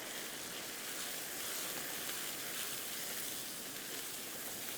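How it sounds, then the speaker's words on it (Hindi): Masala of ground coriander and salt roasting in a pan, giving a steady, even sizzle that stays constant throughout with no talking. "इस मसाले को अच्छे से भून लेंगे।"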